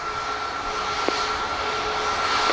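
A Southwest Airlines jet takes off from runway 07 at Montego Bay, Jamaica, its engines giving a steady, loud, sustained roar with a faint high whine on top.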